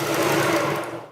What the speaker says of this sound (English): So let's start off with the jigsaw.